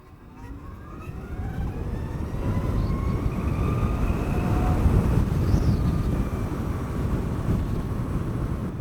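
A Zero FXE electric motorcycle accelerates hard from 0 to 60 mph on a clear road, with a rising electric whine building steadily under loud rushing wind roar.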